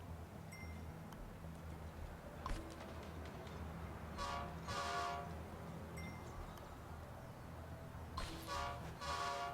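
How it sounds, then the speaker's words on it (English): A train rumbles faintly in the Concrete Jungle city-building game, with distant horn-like tones and brief metallic squeals swelling and fading over a low, constant background. "Where am I hearing this train from?"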